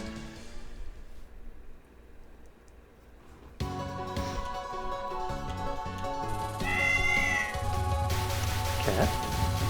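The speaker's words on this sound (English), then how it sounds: "Cat?" A cat meows in the Touhou game Subterranean Animism, short rising cries heard over continuous game music that grows denser and louder.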